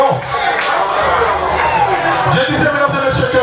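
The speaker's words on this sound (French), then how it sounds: "S'il ne fait pas chaud, applaudissez-vous s'il vous plaît." A birthday party audience in a hall cheering and clapping together, a dense, loud crowd roar with whoops and scattered applause holding steady throughout, voices mixed into the babble.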